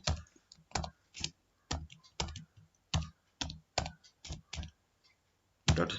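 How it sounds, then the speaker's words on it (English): Keys clack on a computer keyboard as a Java program is typed, in short bursts of close, crisp taps with brief pauses, then a louder cluster at the end. "Now type the full program what I have showed you just now."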